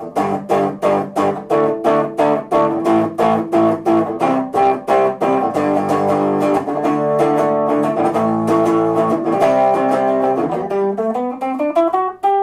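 A distorted Epiphone Nighthawk electric guitar plays a run of sustained chords and picked notes, thick and buzzing, ending with a sliding bend.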